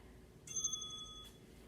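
Workout interval timer bell rings once, a bright sustained metallic ring that lasts under a second before cutting off, loud and alone over quiet room tone.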